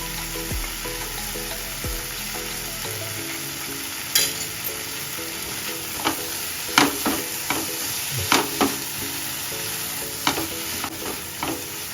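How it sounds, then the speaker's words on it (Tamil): Fresh prawns fry with cumin powder in a masala in a pan, a continuous sizzle broken by a series of sharp spoon scrapes and knocks from stirring, close and clear, with no talking. "எறா பாருங்கள் நல்லா வெந்துருச்சு."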